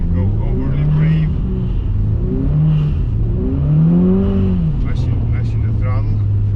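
Subaru Impreza WRX STI with all-wheel drive on an ice track, engine droning and rising in repeated revs under the throttle, heard from inside the car under a steady low rumble.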